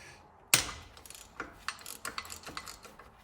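A ratchet clicks on a water pump bolt of a Mk1 VW Golf, a sharp metallic knock followed by a series of quiet, uneven ratcheting clicks close by.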